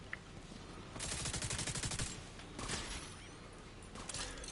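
Enemy machine gunners open up in The Division 2, with one rapid burst of automatic fire lasting about a second, then shorter bursts and scattered shots at moderate volume.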